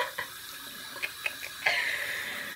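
Tap water runs and splashes at a sink while soap suds are rinsed off a face, a steady close hiss broken by a few soft splashes, no talking.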